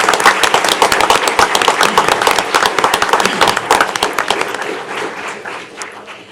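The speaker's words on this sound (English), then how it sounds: "to give them a round of applause." Applause at a city commission meeting in Harlingen, a crowd of hands clapping in dense sharp bursts that hold steady, then thin out and fade toward the end.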